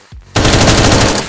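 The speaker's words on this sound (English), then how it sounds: "that's what happens when you shoot a rocket launcher" A rocket launcher fires in a Middle-earth video game: after a brief click, a sudden loud blast bursts and roars on for about a second.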